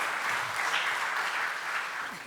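An awards ceremony audience applauds steadily as two presenters are welcomed to the stage, an even and fairly quiet wash of clapping that holds for the whole short stretch with no voices over it.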